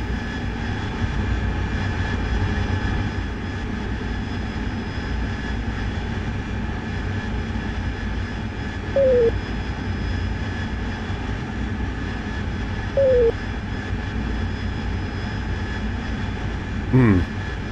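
Steady jet engine drone from a combat aircraft in the DCS World flight simulator, holding a constant roar throughout with a few short blips and a brief burst near the end; a voice talks occasionally over it.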